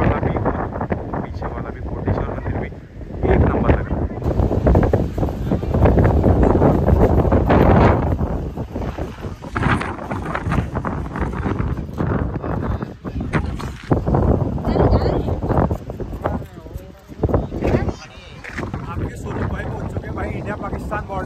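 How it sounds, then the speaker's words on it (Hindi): Strong wind buffets the microphone at the India–Pakistan border near Koteshwar temple, roaring in loud gusts while people talk over it throughout. "क्या हवा चल रही है।"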